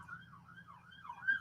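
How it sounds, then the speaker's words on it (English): Ambulance siren wailing steadily in a rising and falling sweep as it passes on a city street at night, fairly faint and distant with a low rumble of traffic beneath, no talk. "Ambulance passing by."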